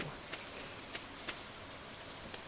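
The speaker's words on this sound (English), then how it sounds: "if you plant them on a day like today, where it's raining, you don't have to water them" Soft, steady rain patters in the video game Stardew Valley, a faint even hiss with a few slightly louder drops over a couple of seconds.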